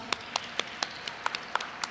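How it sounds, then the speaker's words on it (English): A round of applause for Dr. Sandra Holt at a university honors convocation, heard as a sparse, quiet patter of individual claps spaced roughly a quarter second apart, with no voices. "Let's give her a round of applause."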